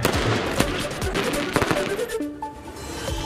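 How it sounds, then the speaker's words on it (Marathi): Fireworks burst near an equestrian statue during a Shiv Jayanti celebration in Nanded, a rapid crackling volley of loud pops and bangs followed by a whistling rise, with a crowd's murmur underneath. "शिवजयंतीनिमित्त नांदेडमध्ये शिवरायांच्या अश्वारूढ पुतळ्याजवळ फटाक्यांची आतषबाजी।"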